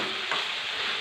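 Tomatoes, tamarind and fried green chilies stirred together in a hot pan for tomato coriander chutney, a brief dense sizzle with a soft scrape.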